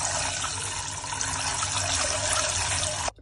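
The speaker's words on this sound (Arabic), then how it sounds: "نغسل بقى الرز كويس قوي" Tap water running steadily and splashing while rice is washed in a kitchen, a close, continuous rushing flow that cuts off at the end.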